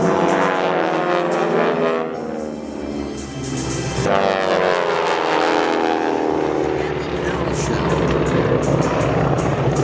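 Aerobatic aircraft flying in airshow formation, their engines droning and sweeping past with shifting pitch, a dip in loudness midway, while a voice talks over the continuous roar.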